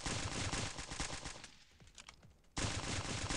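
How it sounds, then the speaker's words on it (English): Rapid bursts of submachine gun fire from an M18 Commando in the mobile shooter Stick Warfare Blood Strike, loud and continuous with a short lull before the firing resumes abruptly. "The M18 Commando is a submachine gun, if I remember correctly."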